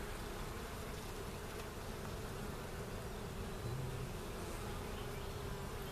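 Honey bees swarm over an open, strong hive during a spring brood box inspection, making a dense, continuous close buzz that never lets up, with no voices.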